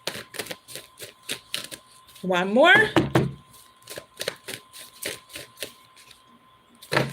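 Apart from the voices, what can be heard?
shuffling tarot cards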